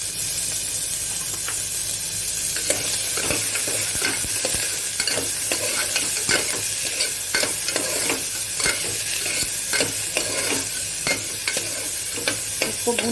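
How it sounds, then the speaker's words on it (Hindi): Onions and Amritsari vadi fry in a pan on a medium flame, giving a steady sizzle and hiss with faint scrapes of stirring throughout, and no one speaks. "इसको भूनते हैं गोल्डन ब्राउन होने तक"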